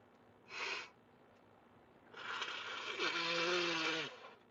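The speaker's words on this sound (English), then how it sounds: "I really don't like to blow my nose when y'all can hear it" A person blows their nose close up: a short blast, a pause, then a longer wet, honking blow with a rising nasal tone.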